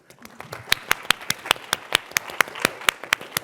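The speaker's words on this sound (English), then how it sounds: "Let's clap." A small group claps together in a quick, steady rhythm for a few seconds, fairly soft, with a voice faintly audible underneath.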